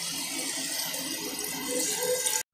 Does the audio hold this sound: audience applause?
no